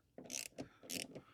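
An impact driver removes the back seat bolts on a Vauxhall Corsa D, giving two short bursts of rapid mechanical rattling close by with a brief click between them.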